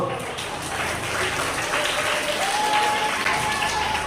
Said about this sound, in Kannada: ಜೋರಾಗಿ ಚಪ್ಪಾಳೆ ಬರಬೇಕು